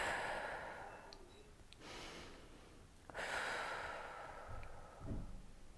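Slow, audible breaths during a standing hamstring and calf stretch, with soft inhales and longer sighing exhales spaced a couple of seconds apart, close and fairly quiet, with no talking.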